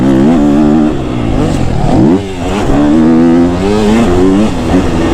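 A KTM 250 SXF dirt bike engine revs and roars loud and close while riding, its pitch rising and falling with throttle changes and a brief dip midway before climbing again.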